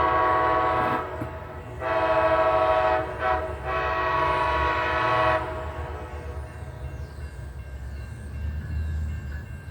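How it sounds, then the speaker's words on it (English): Amtrak Northeast Regional train 95 creeping eastbound through Suffolk, Virginia, sounding several long, loud horn blasts, then a low rolling rumble of the slow-moving train. "Looks like we got Amtrak 95 coming eastbound at you"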